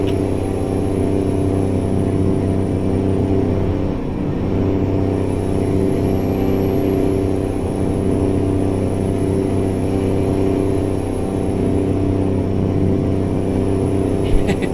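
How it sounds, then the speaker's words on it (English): Continuous low rumble of a game truck's engine in American Truck Simulator, sounding rough and overworked, holding a steady loud drone for the whole stretch without speech over it. "Just don't mind the sound of the engine,"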